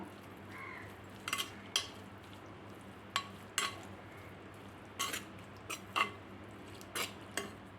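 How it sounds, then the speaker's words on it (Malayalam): A utensil stirs clam meat with spices and a little water in a pan, giving a run of sharp metallic scrapes and clinks at irregular intervals over a quiet, low background. "നന്നായിട്ടൊന്ന് മിക്സ് ചെയ്ത് കൊടുക്കാം."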